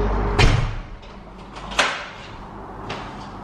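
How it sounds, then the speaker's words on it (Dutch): A house door being shut, with a loud thud followed by two softer knocks and clicks as it settles closed, close by with no talk. "De deur is toe."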